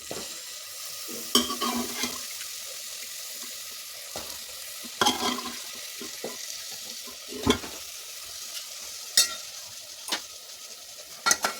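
Mutton pieces sizzle steadily in a hot pan for a mutton rassa curry, with intermittent sharp scrapes and clinks of a spoon stirring them, fairly close and alone without talk.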